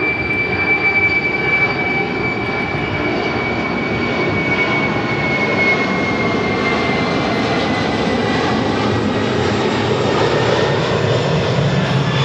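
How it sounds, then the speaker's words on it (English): An Atlas Air jet departing LAX for Travis Air Force Base roars loudly and continuously, a broad steady engine rumble with a faint high whine, no voices over it. "That is Atlas Air 8829 departing to Fairfield Travis Air Force Base,"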